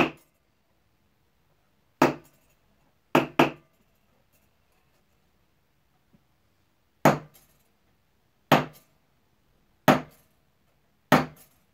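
A hammer striking a masonry nail to make a texture stamp: seven sharp, isolated metallic impacts spaced irregularly, a close pair near the start and the rest a second or more apart, each ringing briefly in near silence.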